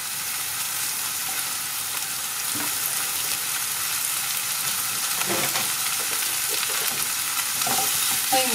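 Minced meat and lightly browned onion sizzle in a frying pan for lasagna, a steady close frying hiss with occasional stirring scrapes and clicks, no talking.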